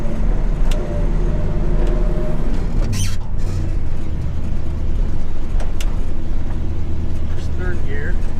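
A 1966 car engine droning in third gear on a drive, a loud, steady low rumble with road noise and a few small clicks and rattles throughout.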